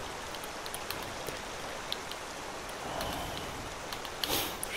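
Steady rain summoned in the Skyrim VR video game, falling as a dense, even patter with scattered sharper drops, moderately loud and continuous with no voices.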